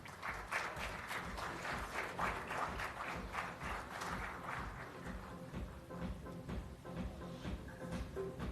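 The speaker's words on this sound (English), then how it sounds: "A round of applause, please." Audience at a national symposium and AGM clapping in a dense, continuous round of applause that holds fairly steady and then thins slightly toward the end, heard at a moderate distance.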